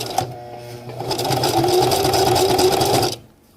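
A sewing machine stitches PALS/MOLLE webbing onto an accessory pouch in a steady, close mechanical whir for about three seconds before stopping abruptly.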